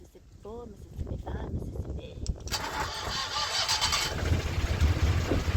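A narrowboat's diesel engine cranks and catches, then settles into a steady, loud running rumble close by, with a brief voice-like sound early on before the engine takes over.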